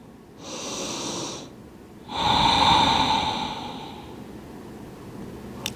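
Deep audible breaths during a yoga forward fold, a nasal inhale followed by a longer, louder exhale that tapers off, close and alone.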